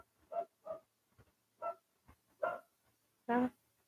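A dog barks repeatedly at a passerby outdoors, five or six moderately distant woofs spaced irregularly over a few seconds, with no talk over them.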